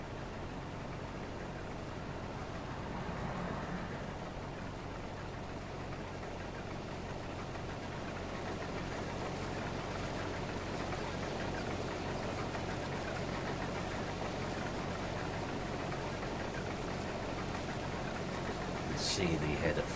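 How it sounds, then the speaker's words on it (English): Combine harvester engine running while chopping straw in Farming Simulator 22, a steady low mechanical drone and hum, fairly faint and constant, with a brief rattle near the end. "It's nice to actually chop some straw."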